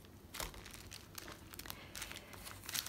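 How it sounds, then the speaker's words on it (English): Scissors slice the top edge off a plastic pocket bag, giving sharp crinkly snips and rustles in quick irregular bursts, close and fairly quiet. "Let's just cut the top right off. Just the top edge and see how that works."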